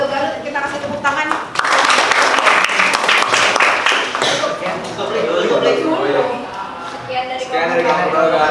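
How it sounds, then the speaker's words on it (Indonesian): A class claps for a student group after a presentation in a classroom, a loud burst of applause with some chatter and shuffling mixed in. "Kita kasih tepuk tangan."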